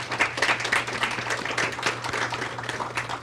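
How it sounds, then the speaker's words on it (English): An audience at a No Place for Hate ceremony claps in a round of applause, producing dense, continuous clapping throughout over a faint low hum. "So I want to give them a round of applause."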